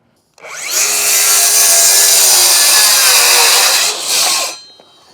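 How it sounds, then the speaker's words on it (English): A DeWalt FlexVolt saw rips through triple-thick wood plate in one pass: a loud, steady, high-pitched cutting roar holds for about four seconds, dips briefly, then surges again before stopping, with no voices over it. "I'm gonna show you guys some 3x plate material, cutting through that in a single pass rather than having to flip it over and make a second pass"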